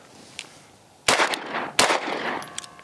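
Sig P365 Fuse pistol firing 115 grain MagTech ammunition, two loud close shots less than a second apart, each with a brief ringing echo, over faint background noise.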